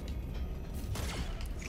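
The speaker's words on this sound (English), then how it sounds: "That is the sound when you open doors." A door opening in the video game ReCore: a mechanical, creaking whoosh with a rising sweep, over a steady bed of game ambience at moderate level.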